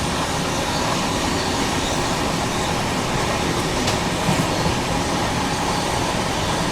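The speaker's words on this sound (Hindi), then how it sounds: "अभी देखो अपनी ट्रेन निकल रही है विदर्भा क्रिकेट एसोसिएशन के क्रिकेट स्टेडियम से, एकदम बगल से।" Karnataka Sampark Kranti passenger train running along the tracks near Nagpur, a steady loud rumble and rattle of wheels and carriages heard from onboard, continuous with no talk.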